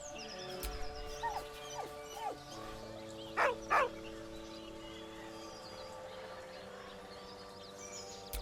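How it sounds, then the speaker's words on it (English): A dog in Baldur's Gate 3 lets out a few soft, high, wavering whimpers and then two louder yelping whines over a steady ambient hum, close by and without any talking. "With a deep, heartbroken whine, the dog bows his head"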